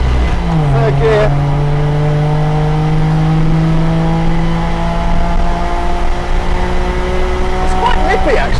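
A lowered German 1000cc estate car accelerates hard in third gear, its engine note climbing steadily and loudly from close range without a break.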